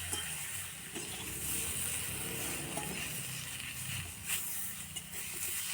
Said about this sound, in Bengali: তো ভালো করে কষিয়ে নিচ্ছি আবারও।